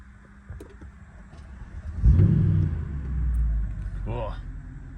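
A Mercedes-Benz W211 E63 AMG starts up at night: a quiet idle hum, then a sudden loud rumbling catch with a rev that settles into a steady deep idle, close by.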